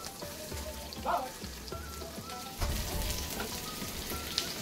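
Paneer shallow-fries in a little hot oil in a pan for a spicy Maharashtrian paneer thecha, giving a faint, steady sizzle like light rain, with a few soft taps and clinks.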